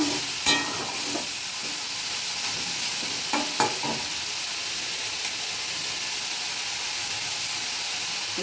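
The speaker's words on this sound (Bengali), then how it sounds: "মশলাগুলো আমার মোটামুটি কষা হয়ে গেছে, সয়াবিনগুলো একটু ভাজা ভাজা হয়ে গেছে।" Soya chunks frying with cooked-down spices in a pan make a loud, constant close sizzle with steamy hiss, and a few brief scraping stirs early on.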